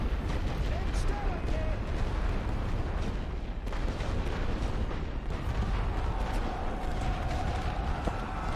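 Heavy massed artillery in The Great War: Western Front, a dense, continuous rumble of distant gunfire and blasts rolling under a quiet commentator's voice.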